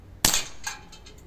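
A Schofield-style CO2 air pistol firing a 4.5 mm full-metal diabolo pellet: one sharp, close crack, followed by a short metallic ring and faint echoes fading out.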